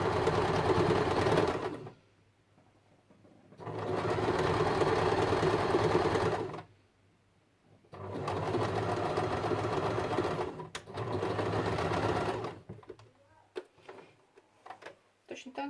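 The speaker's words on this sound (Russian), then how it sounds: "При пошиве мы велюр не растягиваем. Просто аккуратненько придерживаем, чтобы совмещаем края." A sewing machine stitches velour fabric in several loud, steady bursts, with short pauses between runs and a few faint clicks near the end.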